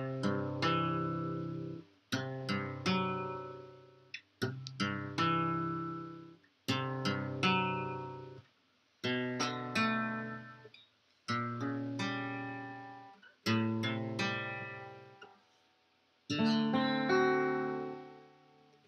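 Plucked guitar notes of a melody ring out in a steady melodic pattern, each phrase struck then decaying, repeating about every two seconds with no voices.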